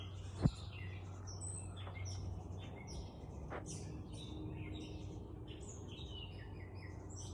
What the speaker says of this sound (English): It's like a bird paradise out here.